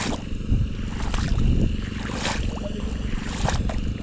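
Water sloshing and splashing around a small boat as its motor is lowered into the water during rice planting, with knocks and clunks of the hull and a low rumble, close and fairly loud.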